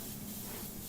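A steady, even hiss of an airbrush spraying transparent paint continuously, close and unbroken.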